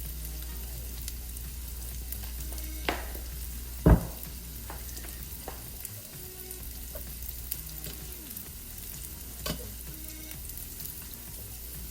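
Lightly breaded food sizzles steadily in a hot pan, a continuous close frying crackle with a few sharp clinks and pops over the top and no talking.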